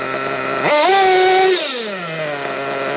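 A nitro-fuelled RC car engine revs high and steady, then its pitch slides smoothly down and settles back into a lower idle hum, loud and close with no talking.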